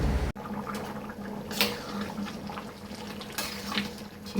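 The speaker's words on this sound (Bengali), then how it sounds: "আর একটু জল দিয়ে দিলাম, গরম জল একবারে।" Hot water poured into a pot of khichuri cooking on the stove, a soft continuous watery rush and bubbling at low level, with a sharp knock at the start and a couple of brief splashy bursts.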